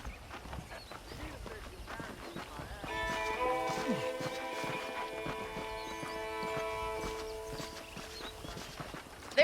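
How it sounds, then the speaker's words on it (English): Horse hooves clip-clop in a steady rhythm in the Red Dead Redemption video game, with a rider's voice speaking over the hoofbeats and tonal game music underneath. "The horses are saddled up over here."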